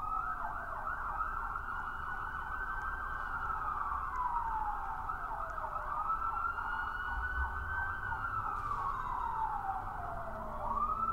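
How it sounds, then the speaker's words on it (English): Police sirens wail in the Roblox game Brookhaven, a rising and falling tone repeating in slow sweeps over a low background rumble, fairly faint and distant throughout, with no voices. "I can hear the Rozzers coming"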